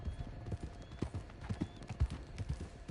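Horses clip-clopping at a steady trot in Red Dead Redemption 2, repeated hoof thuds close and prominent, with faint background ambience and no talk.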